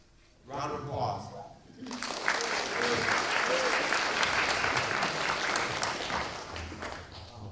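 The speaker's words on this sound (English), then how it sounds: "Round of applause" An audience at a talk breaks into sustained, dense applause that swells quickly and holds steady for several seconds, filling the room after a brief spoken introduction.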